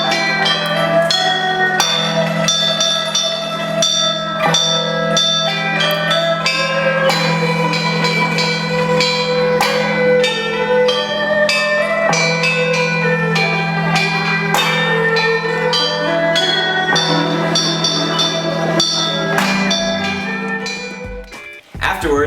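Bell Tower Septet performing on tuned bells, a dense, continuous run of ringing metallic strikes with sustained overtones, loud and close, filling the whole stretch before cutting off abruptly at the end.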